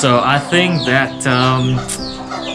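A chicken on a farm that keeps three breeds clucks and calls in rising, drawn-out bursts close by, while someone talks over it.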